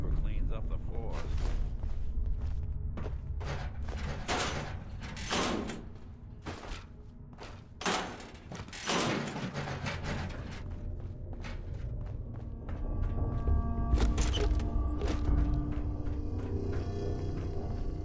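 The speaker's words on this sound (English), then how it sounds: "Door's on the fritz. Let me see if I can get it open." Malfunctioning door mechanism in Fallout 4 being forced open: a series of sharp clanks, thumps and metallic knocks, some in quick bursts, followed by a grinding mechanical rumble, with a voice talking over parts of it.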